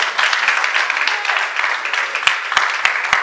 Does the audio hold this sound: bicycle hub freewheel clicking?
no